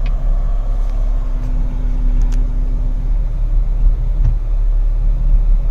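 A 2023 Cadillac XT5 Sport edition reversing, a low steady engine and tyre rumble from inside the cabin, with a faint chime and a few light clicks over it.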